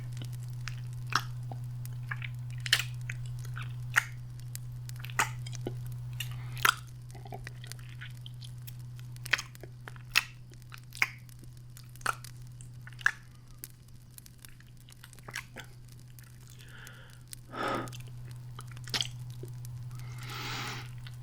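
Close, intimate ASMR mouth sounds imitating a vampire biting a neck: wet squishes, soft smacks and occasional sharper clicks spaced irregularly over a steady low hum, with no speech.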